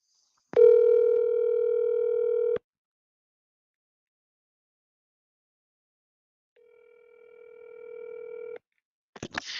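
Telephone dial tone heard while placing a call, a steady two-second tone that stops, then after a silence a second, slightly softer two-second tone, ending in a brief clatter.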